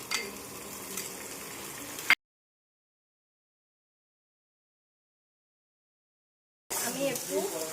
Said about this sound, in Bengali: আমি একটু কষিয়ে নেব যাতে আদা রসুনের গন্ধ, কাঁচা গন্ধটা চলে যায়।